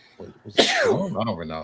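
A sharp, loud sneeze bursts out between stretches of a person talking nearby.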